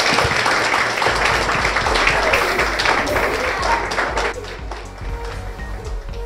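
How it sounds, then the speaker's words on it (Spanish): Audience applause at a children's cooking competition awards ceremony, steady dense clapping that thins out toward the end, with some crowd noise mixed in. "Un aplauso."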